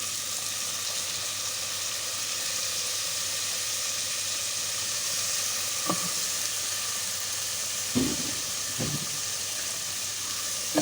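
Onion, garlic and tomato sizzling in a pan for a Turkish-style chicken dish: a constant, even hiss at moderate level, with a few soft knocks or stirs near the end and no talk.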